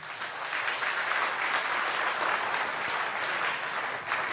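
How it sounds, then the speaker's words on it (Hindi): Audience applause at a religious gathering at Shri Pandokhar Dham, a steady wash of many hands clapping for a few seconds, moderately loud with no talk over it. "भैया ताली तो जरूर बजा दिया करें"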